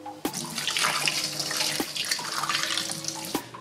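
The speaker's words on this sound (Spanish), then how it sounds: "Vamos a enjuagarlo con agua caliente." Hot water runs steadily from a tap over a bone being cleaned of leftover fat, a continuous close splashing and gushing with a few sharper knocks as the bone shifts under the stream.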